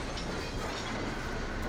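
An HO scale model coal train rolls along a layout, a steady close rumble of wheels and cars with faint clicking over track joints, continuous and even throughout, with no voices.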